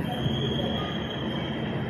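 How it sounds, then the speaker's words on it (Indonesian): A Red Komodo high-speed train pulls into Padalarang high-speed rail station with a steady low rumble and a thin, sustained high whine, moderately close and unbroken. "saat ini Red Komodo sudah memasuki stasiun kereta cepat Padalarang"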